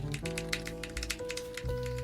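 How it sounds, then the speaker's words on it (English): Rapid computer keyboard typing during a Fallout: New Vegas speedrun, a quick run of crisp clicking keystrokes over a steady musical game soundtrack. "And you can of course hear his famous keyboard sounds."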